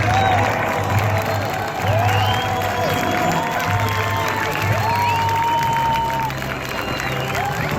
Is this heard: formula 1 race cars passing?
no